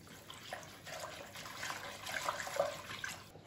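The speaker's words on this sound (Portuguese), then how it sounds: "vou colocar aqui a água do bacalhau" Salt cod soaking water poured into a pan while making creamy baked cod, a soft, steady liquid trickle and splash running close by for a few seconds with no talking.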